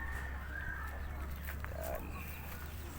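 Backyard hens with their chicks give scattered, faint clucks over a steady low hum and outdoor noise, with no talking.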